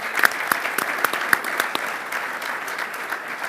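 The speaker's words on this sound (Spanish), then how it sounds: "Aplaudimos." Applause from a panel discussion audience, with several distinct sharp claps standing out early before the clapping settles into a lighter, steady patter.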